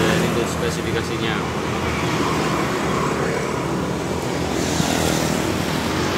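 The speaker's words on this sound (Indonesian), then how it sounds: "Itu dari mesin." The Kubota RD85DI-2S diesel engine of a Quick G1000 Boxer rice-field tractor runs at a steady, loud, close idle, a dense continuous rumble with someone talking over it.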